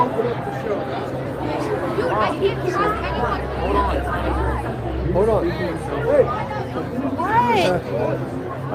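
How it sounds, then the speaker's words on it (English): A steady murmur of crowd chatter fills a busy Dorney Park Halloween Haunt event, with many overlapping voices nearby and individual people speaking above the babble. "We made it out of that crowd"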